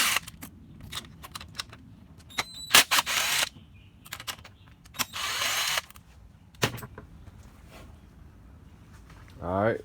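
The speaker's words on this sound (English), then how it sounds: "I'm just gonna unbolt all of these coil packs on here" A power tool unbolts the coil packs from a car engine during a spark plug change, with short close whirring bursts and clicks between quiet pauses.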